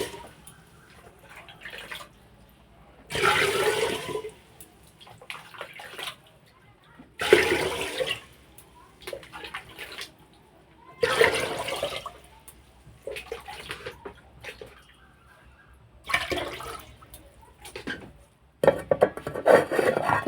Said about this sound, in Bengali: চালটা ধোয়া হয়ে গেছে, এখন কিন্তু আমি জল দিয়ে দেব।